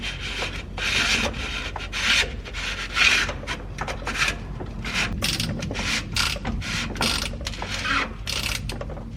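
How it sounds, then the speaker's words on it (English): Fuel filter on a 6.7 Powerstroke diesel being pushed and twisted back into its housing, giving a steady run of close scraping, rubbing and ratchety plastic clicks with no talking. "we're just going to place our fuel filter back in."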